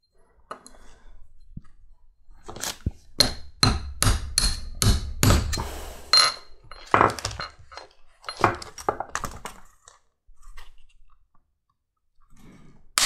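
Leather cartridge box for a Civil War 1861 reproduction being riveted, sharp hammer blows striking rivets and burrs in irregular bursts of close, loud taps with short pauses between.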